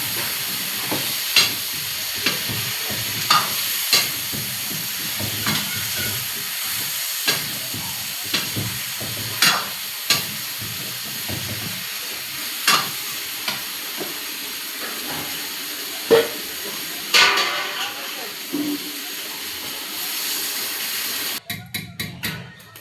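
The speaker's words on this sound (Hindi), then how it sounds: "तो यहाँ पे सब्ज़ी मैंने छोंक दी थी" Vegetables tempered and frying in a pan on a gas stove give a steady sizzling hiss, broken by sharp pops and spatters and a few louder crackles, with no talk.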